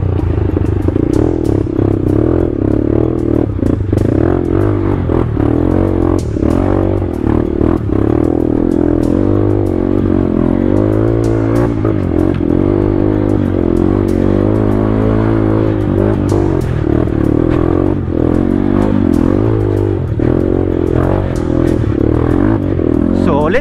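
A motorcycle engine strains and revs on a rough rural road, its wheels losing grip, loud and close with clattering and scraping over the whole span while people talk.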